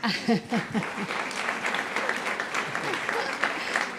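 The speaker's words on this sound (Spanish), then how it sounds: "un aplauso porque…" An audience at a fashion event applauds in a steady wash of clapping, close and moderately loud, following a few brief spoken words at the start.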